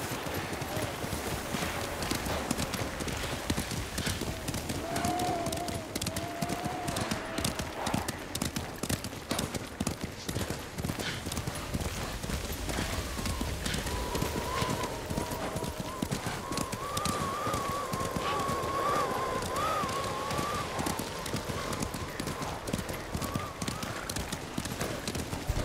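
Horse hooves gallop steadily throughout in the Ghost of Tsushima video game, a continuous rhythmic clatter mixed with game music and ambient sound, with occasional voices in between.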